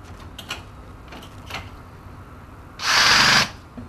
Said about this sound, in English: we are screwing not against something that's firm